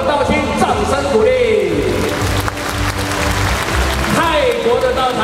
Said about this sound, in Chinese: 给温哥华温哥华的道亲掌声鼓励